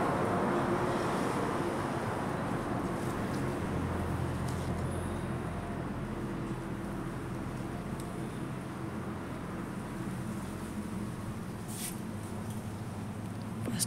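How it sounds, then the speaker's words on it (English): Steady outdoor wind rushing across a microphone among plants, a continuous broadband roar that stays loud and even throughout with no talking. "Here wind is blowing."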